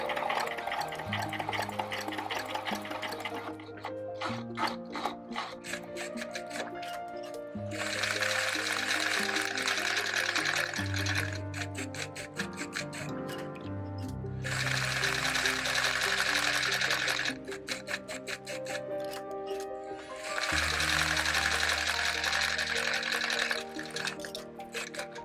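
A sewing machine finishes the edges of fabric reinforcement squares for an Azumabukuro bag, running in several bursts of rapid whirring stitching separated by brief pauses.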